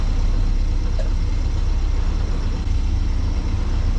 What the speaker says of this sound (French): J'arrête le moteur.